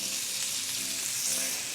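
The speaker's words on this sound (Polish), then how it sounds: "kładziemy saltimboczkę. O, skwiercz, pięknie." Pork tenderloin saltimbocca sizzles steadily in a hot frying pan, a loud, continuous crackling fry close up with no voices.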